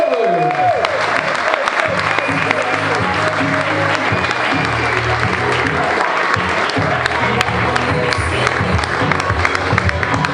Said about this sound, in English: Can we have a massive round of applause for the goalkeeper that scores goals, Mr. Michael Jensen!